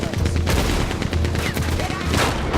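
Rapid gunfire and a fusillade of shots in Red Dead Redemption 2, including a Gatling gun, fill the whole stretch with a loud, dense crackle and booms and barely any gap.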